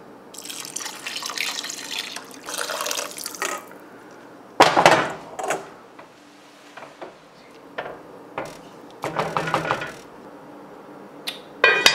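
Water from a tap runs in several separate bursts into a pot of beet soup (borscht), with splashing and dripping between the pours and quiet pauses in between, close and fairly loud, no voices.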